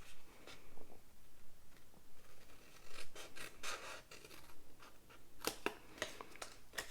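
Craft knife or scissors cutting along short score lines in card stock for an essential oil shadow box, a series of close, dry rasping scrapes and snips in uneven bursts, quiet and with no talk.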